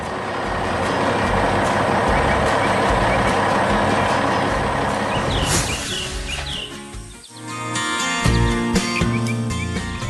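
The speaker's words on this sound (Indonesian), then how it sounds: "Truk itu kini melaju pergi membawa muatannya." A truck pulls away hauling its load on a 3D-animated farm, engine rumble steady and loud before thinning out, followed by bright tonal beeps and bird-like chirps.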